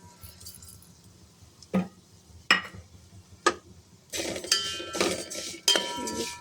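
Bambino vermicelli roasts in a pan while being stirred, a few sharp separate clinks of utensil on metal followed by a denser stretch of rattling, scraping and clinking, fairly close.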